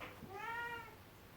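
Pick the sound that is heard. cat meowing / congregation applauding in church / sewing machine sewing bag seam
cat meowing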